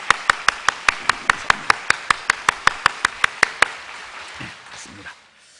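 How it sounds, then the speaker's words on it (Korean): A church congregation claps in welcome for a newly introduced guest, a run of about fifteen sharp, evenly spaced claps that stop abruptly, followed by a brief low murmur of movement and voices. "뜨겁게 박수로 환영하겠습니다"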